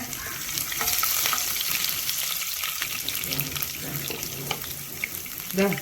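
Half a spoon of cumin seeds and three garlic cloves sizzle in hot oil in a pan, a steady close crackling hiss with faint clinks of a utensil.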